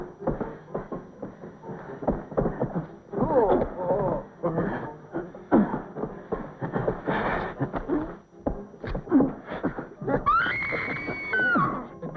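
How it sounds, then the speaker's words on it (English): A woman screams repeatedly in a scene from a 1953 black-and-white comedy film, her shrill, wavering cries rising and falling in bursts over a cluttered soundtrack with other voices and commotion, ending in a sustained high wail. "Do I hear a lady screaming?"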